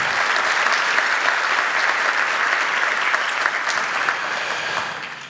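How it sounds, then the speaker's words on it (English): An audience at a water summit claps in a steady, full round of applause that holds evenly and then begins tapering slightly at the end, with no speech over it. "Give him a big round of applause"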